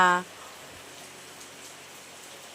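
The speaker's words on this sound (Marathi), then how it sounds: "आज पाऊस पडतो" Steady daytime rain falls outside a home, a faint, even hiss of drops that continues without a break after a brief burst of voice at the very start.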